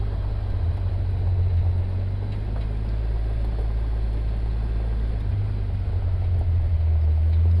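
Vehicle engine droning steadily while driving around a ranch past fields of peas, a constant low rumble close by throughout, with no talking.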